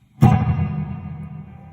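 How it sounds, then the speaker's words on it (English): A single guitar note struck through a reverb effect on an Ecto1 Octameter Spectral Workstation pedal, its tail ringing and slowly decaying over a couple of seconds. "This is more like a reverb."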